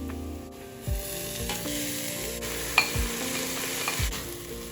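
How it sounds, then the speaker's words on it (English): Onions sauté with mint and coriander leaves in a pan for a mutton biryani, a close, even sizzle with a few scraping stirs over soft background music. "As soon as the onions turn slight brown, add pudina and coriander leaves into it and saute well"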